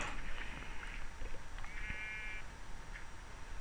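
Sheep bleating in Minecraft 1.8, a short wavering bleat near the middle amid a busy game-audio backdrop with clicks and faint tones, fairly quiet overall.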